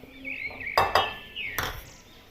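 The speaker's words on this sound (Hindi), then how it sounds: "बाउल लेना है, इसमें कॉर्नफ्लोर डाल देना है 3/4 कप" A kitchen bowl handled while cornflour is added for a cheese bread recipe, giving a few close, sharp clinks and knocks over a quiet background.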